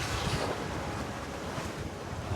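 Rough open sea on a sailing boat crossing toward Fernando de Noronha, with constant loud wind buffeting the microphone over a broad wash of waves, steady throughout with no voices.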